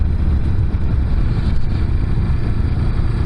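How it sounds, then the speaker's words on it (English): A modified Honda CB350 motorcycle with an aftermarket exhaust and velocity stacks on the carbs runs steadily. The engine gives a continuous low, rumbling drone at even loudness, close by, with no talk over it. "as you can hear, this is definitely not a stock CB350"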